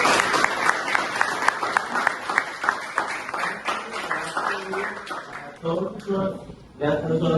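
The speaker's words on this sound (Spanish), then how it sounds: "un aplauso para ellos" Audience at a public dissertation defense claps in sustained applause that fades after several seconds, leaving voices talking over the last of it.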